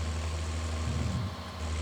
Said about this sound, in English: actually it's a really nice sounding tractor